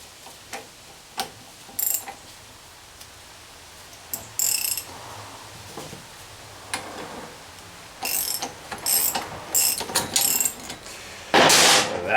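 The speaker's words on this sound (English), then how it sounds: "I got to set some kind of puller up on that" A puller is set up on a bike engine part, giving scattered close metallic clicks, ratcheting and clanks, irregular and quiet between bursts, ending in a louder scraping rasp.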